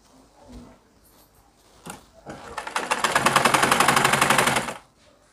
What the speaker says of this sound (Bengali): এইভাবে সেলাই করে দিচ্ছি